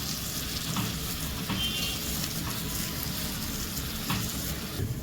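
Steady, crackling sizzle of spices tempering in hot oil in a pan, continuous and close, with faint stirring scrapes and no voices.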